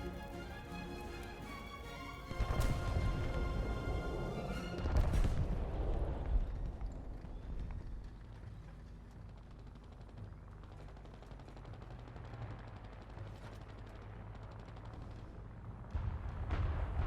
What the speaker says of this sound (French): Bombardement dans votre secteur.